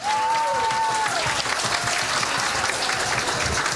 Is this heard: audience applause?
yes